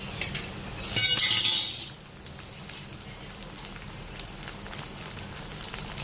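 Chopped tomatoes dropped into a pan of browned onion for egg curry give a bright burst of sizzle and spatter, loud for about a second, then settle into a faint steady frying hiss.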